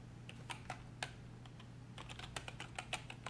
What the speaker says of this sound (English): From here, we're gonna type a password.